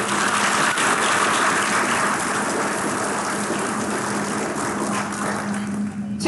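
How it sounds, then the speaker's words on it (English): Sustained round of applause from a crowd at a military commissioning ceremony, a dense steady wash of clapping that stays loud throughout with a faint hum underneath. "Please join me in a round of applause."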